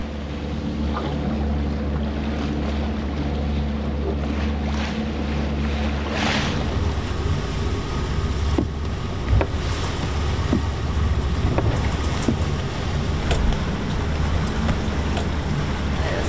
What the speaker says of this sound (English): the wind is straight on our nose at about 20 to 30 knots today